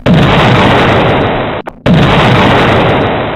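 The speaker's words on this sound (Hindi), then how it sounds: "टारगेट लॉक होता है और तभी होता है एक जोरदार धमाका।" A massive, roaring explosion from an Israeli strike fills the clip, cutting out briefly before a second blast of equally loud rumbling noise.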